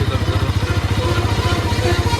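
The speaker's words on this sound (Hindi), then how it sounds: "सो गाइस बाइक को स्टार्ट करके छोड़ दिए हैं।" A Bajaj Pulsar RS200 motorcycle engine idles steadily after being started and left running, a close, even mechanical throb with rapid regular pulses and no voices.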